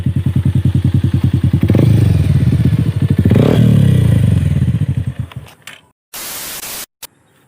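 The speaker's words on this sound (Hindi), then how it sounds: "बाइक को स्टार्ट करके रहने दो दोस्त" Modified Bajaj Pulsar 180 motorcycle with an Akrapovic exhaust, idling close by with a loud, rapid exhaust pulse, revving up briefly, then dying down and cutting off, followed by a burst of static noise.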